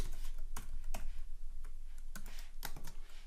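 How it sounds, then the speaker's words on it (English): Fingers type on a computer keyboard, a quick run of close, crisp key clicks in an uneven rhythm over a faint steady hum. "I'm going to type in library tidyverse"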